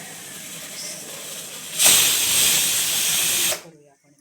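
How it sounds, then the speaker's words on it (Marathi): A pressure cooker cooking dal khichdi releases its fourth whistle: a loud, steady jet of hissing steam bursts out for under two seconds, then cuts off abruptly, over a quieter background. "कुकरची शेट्टी बघू शकता आपल्या आता चौथी होणार"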